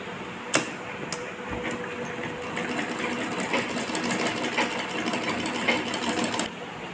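Sewing machine stitching a top made from an old top being converted into a new palazzo outfit, running in a steady continuous rapid whir of needle strokes for several seconds after a few sharp clicks, fairly close.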